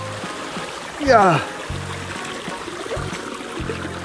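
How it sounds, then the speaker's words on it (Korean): Broadband rushing water from a small waterfall in a mountain stream runs steadily throughout, with a man's brief exclamation and a whistle-like voice rising over it. "작은 폭포가 있습니다."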